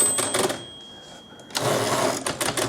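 An Underwood Typemaster typewriter, broken with no working space bar, clacks nearby in quick bursts of mechanical strikes, pausing briefly in the middle before another dense run of clatter.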